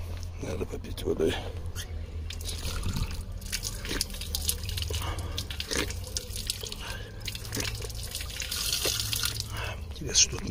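Running tap water trickles and drips into a sink for drinking, outdoors in a mountain setting, a steady wash of water with people talking over it.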